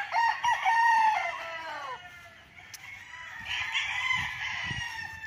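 Chickens and roosters at the coops of a fenced one-hectare farm lot in Liliw, Laguna, with a loud nearby crow followed by more crowing and scattered clucking, no talking.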